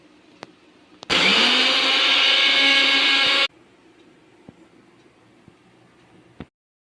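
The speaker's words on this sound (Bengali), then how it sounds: "এখন আমি মশলাটা বেটে নিচ্ছি" A blender grinds spice paste for a rohu fish and water spinach curry, one loud, steady whirring burst of about two seconds that starts and stops abruptly, framed by quiet room tone and a few small clicks.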